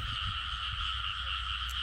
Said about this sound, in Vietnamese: Ếch nó kêu dữ lắm kêu luôn.